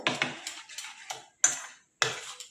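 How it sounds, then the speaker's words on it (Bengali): A spoon scrapes and clinks around a bowl while mixing a carrot and chicken roll filling, several separate close strokes with sharp metallic onsets and quick decays. "তো আবারও মিশিয়ে নেব এটা ভালো করে।"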